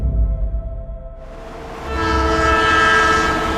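Passenger train at Chiang Mai railway station, rumbling and building with a sustained horn-like tone rising over the rolling noise, fairly loud and close.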